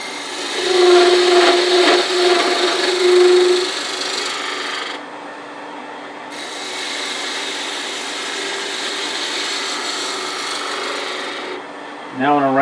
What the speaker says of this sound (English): I'm going to round off the end of that bead. Using a 3/8 inch spindle gouge